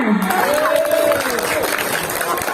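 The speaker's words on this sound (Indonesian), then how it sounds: "Mana tepuk tangannya?" Crowd noise from an audience at an Isra Mi'raj religious lecture, a dense murmur of clapping and cheering with a sliding vocal tone over it, loud and steady through the short clip.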